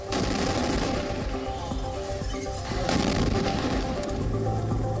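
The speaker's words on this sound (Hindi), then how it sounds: "उन्हें इजरायली सेना ने गोलियों से भून दिया" Gunfire from the Israeli army in Gaza war footage, with dense, rapid bursts of shots and heavy cracks rattling loudly and almost without pause throughout.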